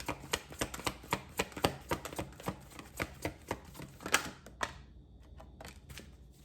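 Tarot cards are shuffled in a steady run of crisp, close slaps and riffles, about a dozen quick snaps, then a card or two is drawn and laid down before the sound fades to near quiet.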